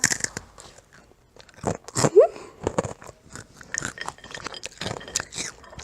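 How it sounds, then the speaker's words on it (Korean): Crisp bites and crunchy chewing of a Hershey chocolate crunch snack, close to the microphone, with a string of sharp irregular crunches across the moment and short quiet pauses between them. "얇은 것부터 먹을게요"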